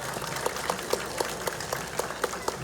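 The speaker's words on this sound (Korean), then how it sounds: "이준호 회장님과 관계자 여러분께도 박수 한번 부탁드리겠습니다." An audience gives steady, moderately loud applause at an outdoor ceremony marking a tourism zone designation on Dongseongno in Daegu, with a few sharper individual claps standing out.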